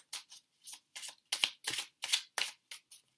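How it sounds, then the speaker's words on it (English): A deck of small, thin tarot cards is shuffled up close in quiet, a series of about ten crisp riffling bursts in an uneven rhythm, separated by short silences. "I'm going to shuffle, and then I'm going to cut the deck and take 4 cards."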